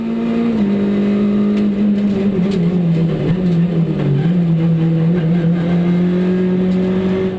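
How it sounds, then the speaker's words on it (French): Onboard a Renault Clio 3 race car at Dijon-Prenois, the 2-litre engine drones loud and close, holding a steady pitch with small dips and rises as the revs shift. "Un envol que l'on revit depuis l'habitacle de la Renault Clio 3"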